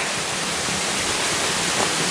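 Watu Talang, also called Tempuran, a waterfall on the slope of Merbabu in Boyolali, roars in a dense, unbroken wash of falling water, loud and close throughout.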